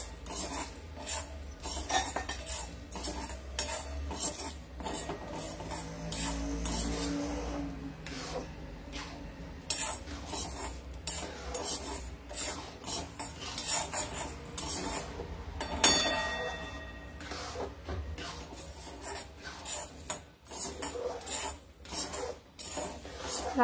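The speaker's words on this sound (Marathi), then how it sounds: "आपल्याला हे व्यवस्थित भाजून घ्यायचंय." Puran poli filling roasting in a pan is scraped and stirred with a utensil, giving a steady gritty rasping and rubbing with metal scrapes, continuous and close throughout with no talk.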